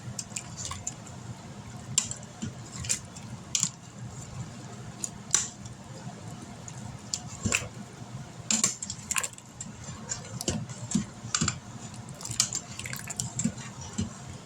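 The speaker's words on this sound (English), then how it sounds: "We're going to give this a stir." Bacon cheeseburger pasta being stirred in an Instant Pot, with a steady wet squish and slosh of thick, cheesy sauce punctuated by scattered metallic clicks of a utensil against the pot.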